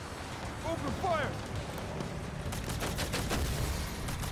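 Gunfire in the video game Payday, a burst of rapid shots then further cracks in the latter half, under voices talking over the action.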